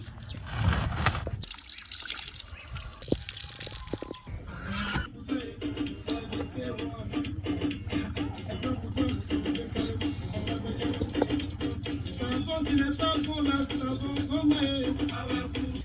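Hot water poured and stirred with dye for weaving, a close trickling and dripping of liquid that runs steadily, faint and without talking.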